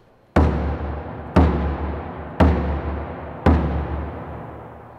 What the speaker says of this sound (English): the dundoon bar has a very, very deep, rich sound